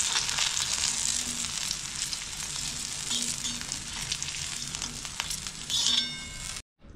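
Drumstick pods frying in hot oil for a crispy Maharashtrian snack, giving a steady, dense sizzle with faint stirring clinks, loud and close, then cutting off abruptly near the end.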